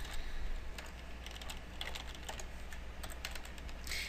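Steady typing on a computer keyboard while entering a department code into accounting software, a fairly close, continuous run of soft key clicks with no talking.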